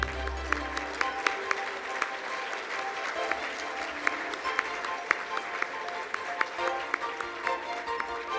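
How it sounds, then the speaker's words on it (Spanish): Sustained audience applause at an executive business conference, CADE Ejecutivos 2024, with dense steady clapping from a large crowd lasting the whole stretch and sharper individual claps standing out near the front. "Un aplauso, por favor."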